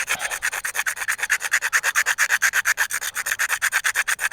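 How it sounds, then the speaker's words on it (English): Rhythmic scraping of wood to make tinder for starting a fire: fast, even back-and-forth rasping strokes, about eight per second, close and steady throughout, with no talking. "I just keep on scraping until I get what I feel like I've got enough."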